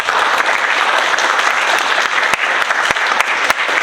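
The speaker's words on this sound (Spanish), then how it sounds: "le pido también un fuerte aplauso" An audience at a forum on drinking water applauds, a dense, loud, continuous clapping with a few sharper individual claps standing out.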